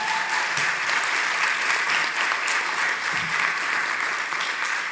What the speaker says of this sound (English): Can we give our speakers another round of applause?